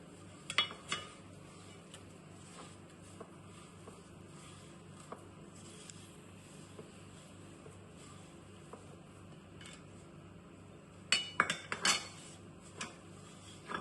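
A spoon or utensil clinks faintly against a bowl while salt, red chilli powder, rice flour, garam masala and oil are mixed together for a fish tawa fry; a few short clinks sit near the start and a cluster comes near the end, with quiet gaps between.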